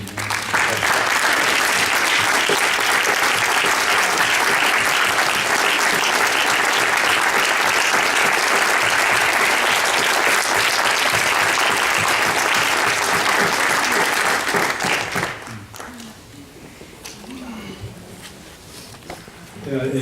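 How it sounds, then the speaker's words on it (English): A large gathering applauds in honor of a family as they stand, a dense, loud, sustained wash of clapping for about fifteen seconds that then drops away abruptly, leaving quieter room sound and faint voices. "let's give another applause as they stand"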